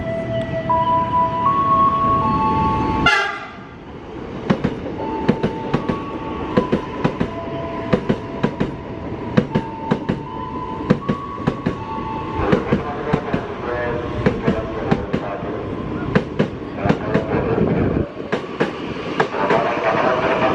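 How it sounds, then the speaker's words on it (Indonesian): A CRRC TS10 electric commuter train rolls into platform 1 close by, a loud steady rumble broken by rhythmic clickety-clack of wheels over rail joints for the whole stretch. "jalur 1 masuk KRL CRRC TS10"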